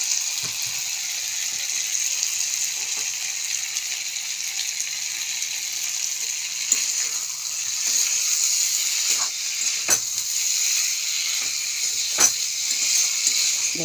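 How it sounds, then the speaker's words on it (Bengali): Spice masala sautéed with taro and potato for a prawn curry gives a steady, close hiss of frying, with occasional sharp clicks and taps from stirring. "কচুর সঙ্গে আলুর সঙ্গে মশলার সঙ্গে কষিয়ে মশলাটা হয়ে গেছে ভালো"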